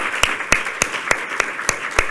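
An audience at a conference session claps for the panelists, about eight sharp, evenly spaced hand claps over two seconds, close and distinct rather than a dense crowd roar.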